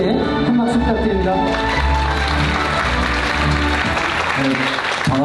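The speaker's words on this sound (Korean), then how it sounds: "무대 위로 올라오실 때 큰 박수 부탁드립니다" An audience at a youth foundation's anniversary vision ceremony breaks into sustained, loud applause as a speaker comes on stage, with a few faint voices mixed into the clapping.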